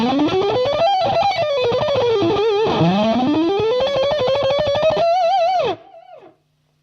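A Strymon Sunset pedal set to its germanium overdrive voice drives an electric guitar, playing a melodic line with bends and sustained notes over strummed chords. It is loud and steady and cuts off abruptly near the end.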